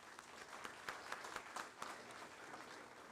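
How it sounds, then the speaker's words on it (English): An audience gives a round of applause at an annual membership meeting, a steady, moderately distant wash of clapping lasting a few seconds. "I think we should give a round of applause for those folks"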